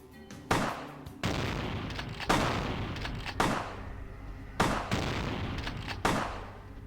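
Gunfire in Vampire the Masquerade: Bloodlines, from a pistol and a shotgun: six loud, sharp shots at irregular intervals, each followed by a short ringing decay, with no talking.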